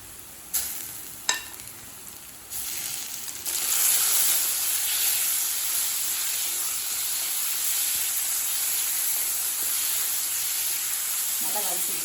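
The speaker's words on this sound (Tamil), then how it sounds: "நல்லா வதக்கிக்கலாங்க" Marinated chicken sautéing in a hot pan with onions and capsicum, a steady loud sizzle with some stirring clatter near the start.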